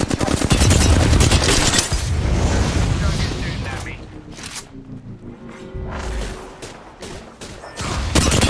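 Gunfire erupts in the battle royale shooter Apex Legends, loud bursts and booms clustering at the start and returning near the end, with quieter gaps and a few sharp shots between.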